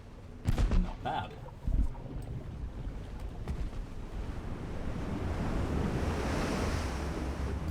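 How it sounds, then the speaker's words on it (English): Bubbling and watery churn from a sinking warship in the naval game Ultimate Admiral Dreadnoughts, with a few sharp thuds early on before a rising, steady rushing wash of bubbles. "I like the sound of the bubbles."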